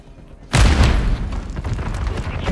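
A frag grenade explodes in Call of Duty MWIII multiplayer deathmatch: after a half-second of low background, a single loud, close boom erupts and rolls on into a long rumbling tail with faint game noise beneath.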